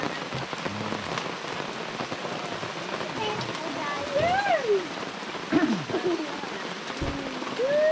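Steady heavy rain patters on a surface at a campsite throughout, with voices and some higher calls or chirps briefly rising above the downpour.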